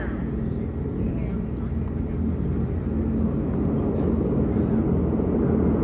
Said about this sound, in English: And watch our angel overhead. That's the 29th airplane.